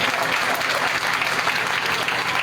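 Steady, dense audience applause at a Catholic gathering, a continuous crowd clapping that holds evenly loud and close throughout the short stretch.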